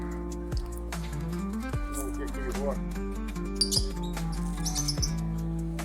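Small birds chirp and tweet in scattered bursts over a continuous low hum at a zoo, with people talking nearby.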